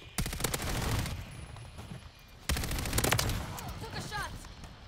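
Rapid gunfire from the suppressed FJX Horus in the video game Modern Warfare III, two sharp bursts of quick shots separated by a brief pause, loud and close, with some faint in-game noise between.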